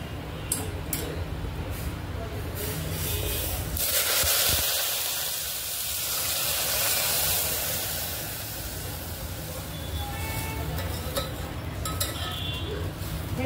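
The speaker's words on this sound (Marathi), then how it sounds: "आता आपण त्यात गरम दूध टाकणार" Hot milk poured into a pan of roasted vermicelli gives a broad sizzling hiss that swells for a couple of seconds, then settles into a softer steady bubbling with light clinks.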